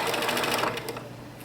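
A sewing machine stitches a dense satin-stitch applique, running as a steady, close, rapid whirring hum throughout with no talking.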